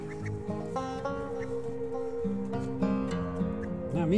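Chickens cluck and squawk in a busy, overlapping chorus close by, with a steady low hum of background noise.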